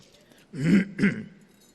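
A person clears their throat close by in two short, gravelly bursts, over a faint background hum.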